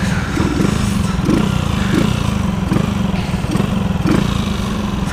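A small, cheap motorcycle with no working brakes idles steadily right after being kick-started again, a close, continuous putter with faint periodic pulses and no talk.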